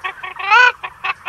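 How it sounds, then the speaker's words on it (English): Chickens clucking on a farm, a close series of short, bright clucks with one longer drawn-out squawk in the middle, loud and alone. "Galinhas."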